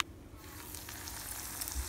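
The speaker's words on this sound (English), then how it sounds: "Look at it, nicely frying away." Prawns sizzle in hot oil in a pan, a steady crackling hiss that swells after a quieter start, with no talking.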